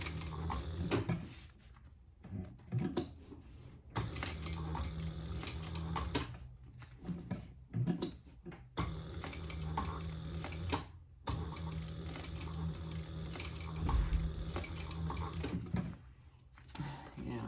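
A home sewing machine stitches a small traveler bag with a protector foot fitted. It runs in several bursts of whirring, clattering mechanism separated by brief pauses, with a person talking over and between the runs.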